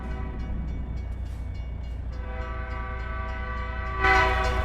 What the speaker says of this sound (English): Train done got us.